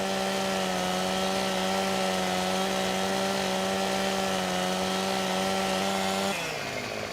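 A chainsaw in Farming Simulator 15 fells a tree, holding one loud, steady, buzzing run close up for about six seconds before the pitch suddenly drops as it winds down.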